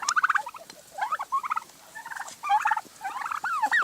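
Silkie chickens give quick, bright clucking and chirping calls in short bursts, close and fairly loud, with brief pauses between runs and no talking.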